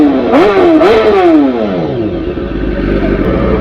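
A BMW S1000 RR sport motorcycle revs hard at close range, its loud engine pitch climbing twice in quick blips before sliding down into a low, steady idle rumble.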